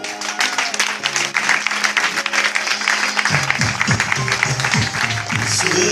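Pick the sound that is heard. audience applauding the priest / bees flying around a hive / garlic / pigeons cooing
audience applauding the priest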